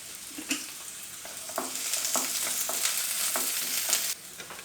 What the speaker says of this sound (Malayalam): ഇനി നമ്മൾ കുറച്ച് ഉള്ളി ഇതിലേക്ക് ചേർത്ത് കൊടുത്ത് ഒന്ന് വഴറ്റിയെടുക്കണം